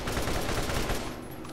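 The Chopper combat rifle in Borderlands emptying its full magazine in one extremely fast continuous burst, a dense rattling stream of shots that cuts off near the end, leaving a faint ringing tail.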